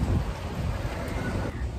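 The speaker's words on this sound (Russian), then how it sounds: "на улице очень ветрено" Steady, heavy wind buffets the microphone outdoors, a continuous low roar with no other sounds standing out.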